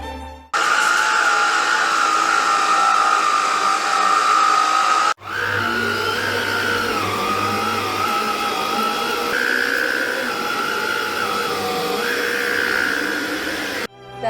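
A Black & Decker Power Series cordless vacuum runs steadily over carpet, a loud continuous motor whine that cuts out briefly and restarts, with slight pitch shifts as it moves.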